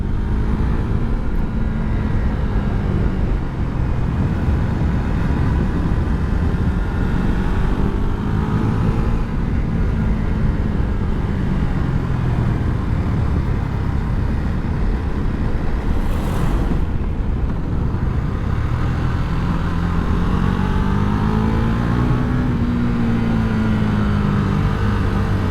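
KTM Duke 390 single-cylinder motorcycle engine droning steadily while riding on a road, with smooth rises and falls in revs and constant rushing wind noise, loud and close throughout.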